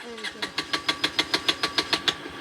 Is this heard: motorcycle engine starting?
yes